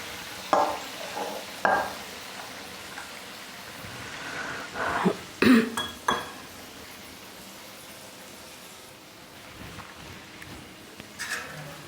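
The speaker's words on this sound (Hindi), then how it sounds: "ये हम पुए इसमें गरम ऑयल में डाल देंगे। और ये देखिए, हमारे पुए सीखने शुरू हो गए हैं।" Sweet puas made from jaggery and wheat flour fry in hot oil with a soft continuous sizzle, punctuated by several sharp splashes and bursts as batter drops in.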